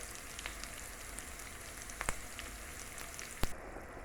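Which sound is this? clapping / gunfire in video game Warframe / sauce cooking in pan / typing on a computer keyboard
sauce cooking in pan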